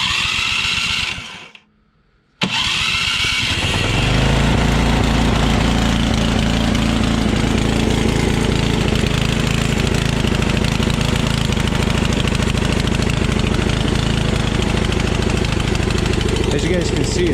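A Powersmart 250cc snowblower engine starts after a short pause and settles into a loud, steady running drone close by, continuing without letup.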